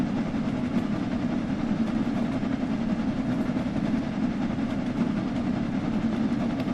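A steam locomotive climbs a long uphill gradient in Train Sim World 3 on the Peak Forest line, a steady low rumble and rolling wheel noise holding constant and close throughout.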